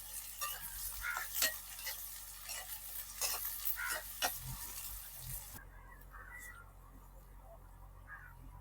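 Chopped onions dropped into hot oil with cumin seeds, crackling and sizzling in a pan with scattered stirring scrapes and clinks, close and fairly quiet, easing to a softer steady fry near the end.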